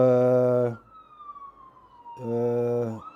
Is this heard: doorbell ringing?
no